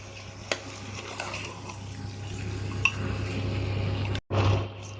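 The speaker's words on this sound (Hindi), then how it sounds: "मसालों के साथ मिक्स करके इसको ढक ढक के कम से कम 15 से 20 मिनट फ्राई करेंगे" Mutton frying with spices in a pan, giving a steady, close sizzle with faint clinks and a low hum throughout. The sound briefly cuts out near the end, then returns louder.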